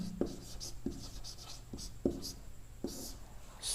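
A pen scratching across paper in short bursts, with a few sharp taps where strokes begin, close and clear amid faint room hum, while working out a Class 10 polynomial maths problem.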